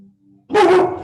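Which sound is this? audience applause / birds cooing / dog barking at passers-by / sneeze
dog barking at passers-by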